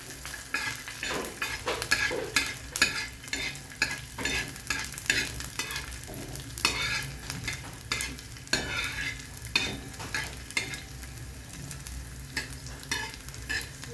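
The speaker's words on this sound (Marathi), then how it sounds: "थोडंसं तेल टाकून लसूण चांगला भाजून घ्यायचं" Garlic roasts in a little oil for a spicy green chili thecha, a steady close sizzle broken by frequent scraping stirs of a spatula against the pan.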